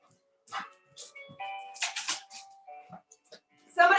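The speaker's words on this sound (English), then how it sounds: "Somebody please come get the dog." A dog barks in several sharp bursts during a home yoga class, mixed with a voice and whimper-like tones, moderately loud and close.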